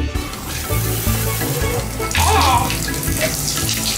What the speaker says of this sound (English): So let's pour the water in the bath first.